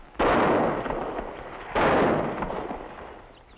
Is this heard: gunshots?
yes